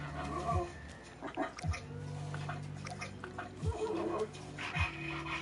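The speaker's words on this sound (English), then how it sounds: "Yeah, that dog is dope." A dog in Assassin's Creed Shadows pants and whimpers softly in short repeated breaths, faint and close, with a voice speaking under and between the breaths.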